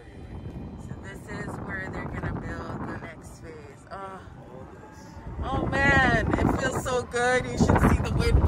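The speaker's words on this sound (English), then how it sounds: "You should see the wind blowing through my ear hair and the construction dust in my face." Wind gusting outdoors at a new-home construction site in Port Saint Lucie, a rough buffeting rush across the microphone that grows stronger toward the end, with a person talking throughout.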